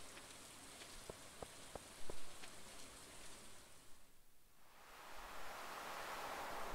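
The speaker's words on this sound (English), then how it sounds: "Why are we in the rain?" Rain falls in a video game as a steady hiss of pouring water, with a few sharp taps early on, then a fresh wash of heavier rain building near the end.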